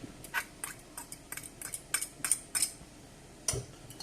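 Egg, milk and cheese being mixed for an omelette, a utensil clicking and scraping against a bowl in a string of short, fairly close, uneven strokes.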